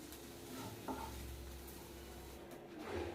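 Okra stir-fry being stirred in a pan for a Tamil home meal, a steady low scraping and sizzling bed with a brief utensil clink near one second, close and alone without talk.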